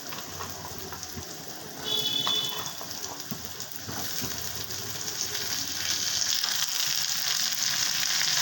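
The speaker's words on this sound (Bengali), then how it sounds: "এবারে দিয়ে দিচ্ছি আলুগুলো" Thin, long potato strips, cut and rinsed, hit hot oil in a pan and sizzle steadily, the frying growing louder and denser after a couple of seconds and holding as a continuous hiss.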